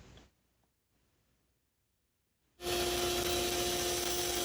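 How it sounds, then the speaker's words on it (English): A woodturner's bandsaw with an old, worn blade bursts on after near silence, freeing an ebony lid blank, and runs loud and steady with a droning hum and harsh broadband rush close by, with no talk over it. "Some quick work on the bandsaw here to free this up. This blade is starting to get a little old. You can hear it banging."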